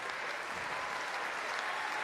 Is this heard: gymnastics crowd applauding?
yes